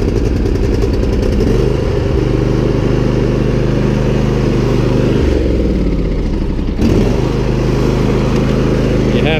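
A Husqvarna YTH22V46 riding lawn mower engine runs loud and close with the choke on, a steady rumbling drone that shifts and dips twice near the end before settling back to a constant run.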